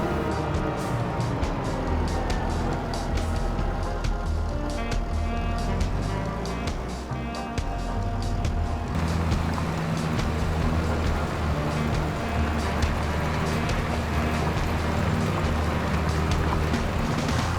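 A farm vehicle drives in the Farming Simulator 2025 video game, giving a steady, loud engine drone that runs without a break, with a slight shift in tone partway through.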